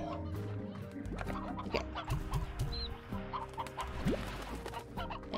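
An elder rooster clucks in the video game Slime Rancher, with a few short clucks over busy game ambience and a quiet voice.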